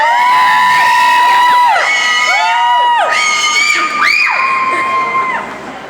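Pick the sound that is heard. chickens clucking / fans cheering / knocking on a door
fans cheering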